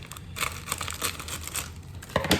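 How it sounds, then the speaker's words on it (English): Scissors snipping and crinkling through a sealed MRE pouch of beef goulash with brown rice, close and crisp, a series of irregular cuts and plastic rustles. "I'm going to use scissors again."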